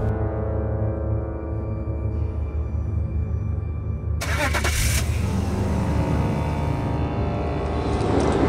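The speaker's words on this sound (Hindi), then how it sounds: "गाड़ी चलाओ।" A car engine starts with a crank and catches, then settles into a steady, loud running hum that rises slightly toward the end, with no voices.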